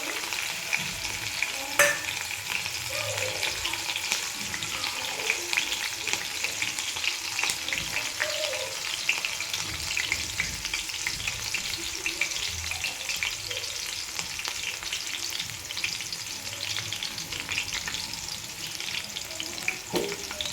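Green chillies and cumin frying in oil in a kadhai on a gas stove, a steady close sizzle with scattered pops and crackles continuing for about twenty seconds without talk.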